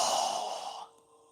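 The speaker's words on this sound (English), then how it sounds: "So go ahead and inhale. Strong exhale." A single strong exhale through the nose during yoga breathing, a broad breathy rush that starts loud and close, then tails off into quiet after about a second.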